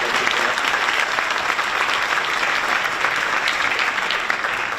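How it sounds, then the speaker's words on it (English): Full audience applause at a school band, orchestra and jazz band concert, a steady, even roar of many clapping hands throughout with no talking. "Can we give her a round of applause?"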